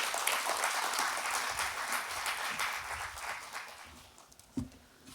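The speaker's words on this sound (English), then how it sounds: "Let us please give a round of applause" An audience applauds at the opening of the UTT School of Business as a government minister is welcomed. Steady, fairly distant clapping gradually thins and fades toward the end.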